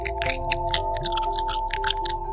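A creature in an animated story chews on sheep in a dark place, giving repeated wet, crunchy bites in a steady rhythm over a sustained low tonal drone, with no speech.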